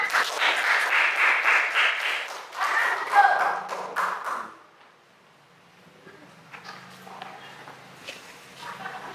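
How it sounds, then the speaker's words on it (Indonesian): A classroom group claps loudly for about four seconds, then the applause stops abruptly and only faint room noise with a few small taps follows. "Tepuk tangan."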